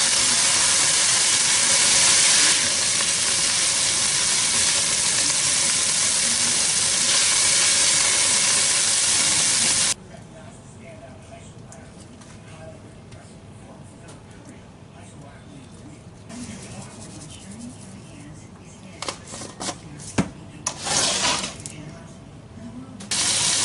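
Thin strips of mallard duck breast sear in a hot pan, a loud steady hiss and steam roar for about ten seconds before dropping to a quieter crackle with scattered pops and clatter.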